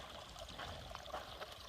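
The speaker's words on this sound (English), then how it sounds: "Nice little waterfall there to grab it from." Small waterfall trickling at a water source along the Pacific Crest Trail, a steady close splashing dribble with soft gurgles, no talk.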